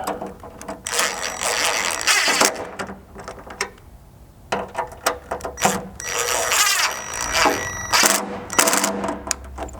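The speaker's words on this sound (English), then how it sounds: "grab that 1/8 inch hex and tighten these 2 up" A 1/8 inch hex key tightens two bolts on a tailgate table on a JK Wrangler, heard as close, uneven bursts of mechanical clicking and rattling with brief pauses between turns.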